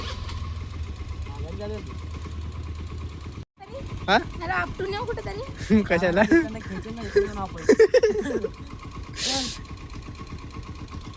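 A motorbike engine runs steadily at idle during a riding lesson, a low rumble that continues under people talking and laughing close by.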